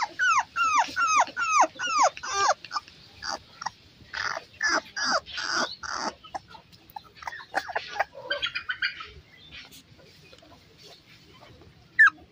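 Shih Tzu, Beagle and Golden Retriever puppies play, letting out a rapid run of high whimpers and yelps for the first six seconds. Scattered softer squeaks and small growls follow, ending with one sharp yip.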